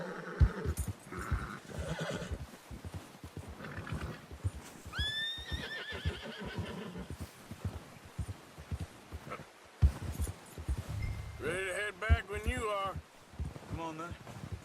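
A horse in the Red Dead Redemption 2 video game whinnies loudly twice amid bursts of clip-clopping hooves and rustling, with someone talking intermittently throughout.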